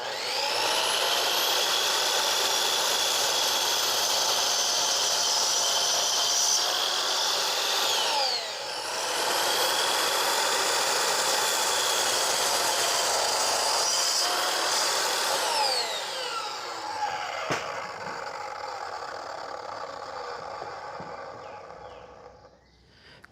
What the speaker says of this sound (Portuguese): essa é uma das vantagens da serra de meia esquadria, questão de você conseguir tirar às vezes 1, 2 milímetros da peça com precisão de acabamento no corte